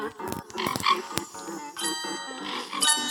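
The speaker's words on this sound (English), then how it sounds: "And it just sends out loads of frogs." Cartoonish frog croaks from the video game Bee Swarm Simulator, a quick run of overlapping ribbits and croaks, fairly quiet and playful.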